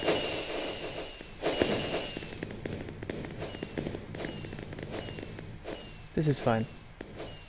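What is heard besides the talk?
fireworks display from the Minecraft Rotarycraft mod, a video game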